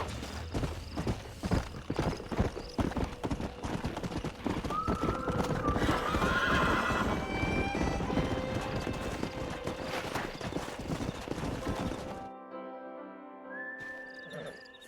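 Horse hooves clip-clop steadily up close in the Red Dead Redemption video game, mixed with whinnies, a whistle and a busy game soundtrack, before the scene falls nearly quiet near the end.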